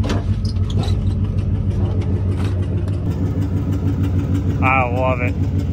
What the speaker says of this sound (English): Sitting here idling pretty good